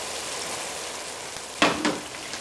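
A beef shin casserole with soy sauce and thick oyster sauce gets stirred in its pot: a constant close simmering hiss, then two short, louder scraping stirs near the end.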